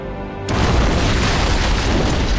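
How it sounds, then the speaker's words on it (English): An antimatter charge explodes aboard a ship in the Halo video game: a sudden, loud boom that hits after a brief quiet moment and then holds as a sustained, roaring rumble. "It must have been one of their boarding parties. I'd guess an antimatter charge."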